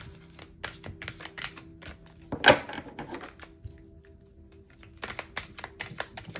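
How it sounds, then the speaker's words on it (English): A deck of oracle cards is shuffled by hand close up, with bursts of crisp papery flicks and clicks, one louder knock partway through, a quiet gap, then more rapid riffling; no one speaks. "You should try shuffling."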